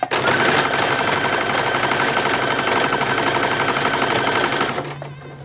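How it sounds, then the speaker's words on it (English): A sewing machine top stitches a fichu for a 1940s-inspired bathing suit, running in a steady, loud, continuous whir for about five seconds before slowing and stopping near the end. "very last step for the fichu is just doing the top stitch"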